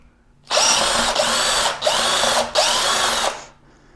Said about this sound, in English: We'll remove these 4 screws.